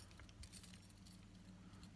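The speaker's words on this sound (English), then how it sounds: "Dungaree clasps" Metal dungaree clasps clink and jangle softly while being handled, a few light close metallic taps over a low steady background hum.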